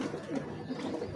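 Breeder pigeons coo softly in a continuous low murmur, close and steady, with no speech.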